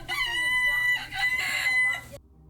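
A close rooster gives one long, strained crow that breaks off abruptly, with faint background noise underneath.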